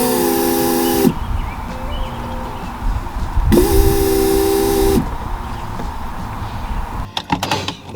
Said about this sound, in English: prime the fuel pump, so that way you get a fresh, good start every time